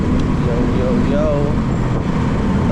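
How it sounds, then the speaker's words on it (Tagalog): Steady road traffic on the Lipa to Tanauan road, a continuous rumble of passing cars and larger vehicles heard close by with a brief tonal whine partway through. "Traffic na naman dito."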